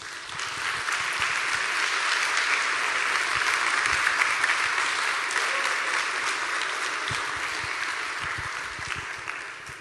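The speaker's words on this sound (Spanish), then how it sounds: "Denle un aplauso al Señor." A church congregation applauds steadily for about ten seconds, dense even clapping filling the room at a consistent level with no pause.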